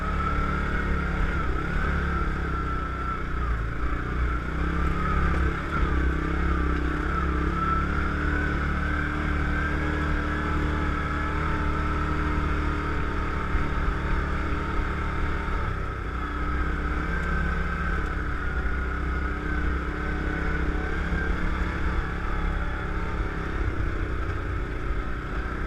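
An old Yamaha Grizzly ATV engine ridden hard, with a steady, loud, droning roar that holds throughout with little change in pitch and only slight dips, all alone without voices.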